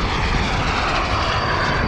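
A jet aircraft roars overhead in Call of Duty Search & Destroy gameplay, a steady, loud, dense rushing engine noise lasting the whole moment with no talk over it.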